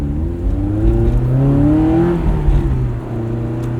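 A Honda S2000 engine revs hard with a deep, throaty aftermarket exhaust, pitch climbing and falling in continuous loud pulls for several seconds.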